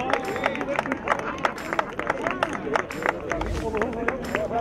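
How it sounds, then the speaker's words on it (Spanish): A crowd claps and cheers at a motor racing podium ceremony for the TC del Litoral Clase B, with scattered applause and a buzz of voices continuing throughout. "El aplauso para Laza"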